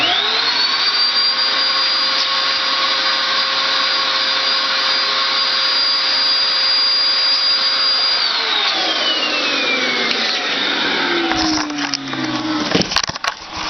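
Eureka Rally 2 canister vacuum cleaner running loud with a steady high whine, then switched off so the motor winds down with falling pitch, ending in clicks and handling noise.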